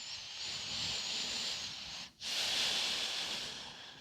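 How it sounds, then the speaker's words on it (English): Slow, steady yoga breathing sounds close and soft: a long airy inhale, a brief pause, then a long hissing exhale, with no voices. "Keep breathing."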